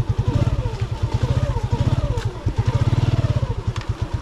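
A motorcycle rides along a trail toward a hanging bridge, its engine thumping loud and close in a rapid, even pulse that keeps a steady pace throughout.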